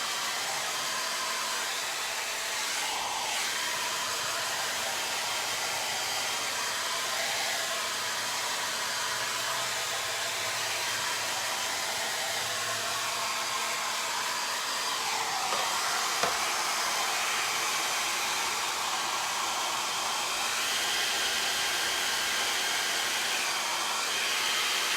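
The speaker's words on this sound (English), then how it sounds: "My blow dryer's not working." A handheld hair dryer runs on a lower setting while paint is dried on a double-sided wooden door hanger sign, a steady, fairly faint whoosh that holds for the whole stretch with no talk.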